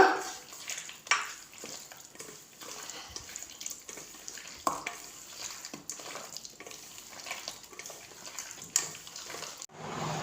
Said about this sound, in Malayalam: ശേഷം കഴുകി വൃത്തിയാക്കി വെച്ച ചിക്കൻ അതിലോട്ട് ചേർക്കുക നല്ലോണം മിക്സ് ചെയ്യുക